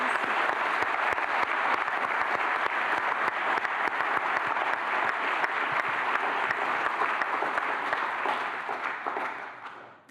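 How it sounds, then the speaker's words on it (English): Sustained audience applause fills a hall at a women's achievement awards event, dense and even clapping from many hands that holds steady for several seconds before fading out at the end. "It deserves a round of applause."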